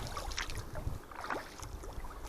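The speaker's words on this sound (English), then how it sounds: "It's a perfect day for paddling." Canoe paddling on a pond on a cool, breezy day: soft water swishes and drips from paddle strokes, fairly close, with steady breeze rumbling over the microphone throughout.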